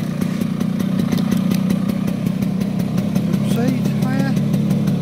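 A 2013 Piaggio Vespa PX 125 scooter idles steadily just after a kick start, a low, even engine drone with a regular mechanical tick; a faint rising whine surfaces briefly near the end.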